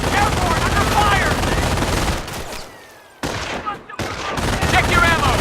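Machine gun fire in the Company of Heroes video game during an airborne farm defence: dense rapid bursts rattle loudly, briefly cutting out into near silence before resuming, with shouted voices mixed in.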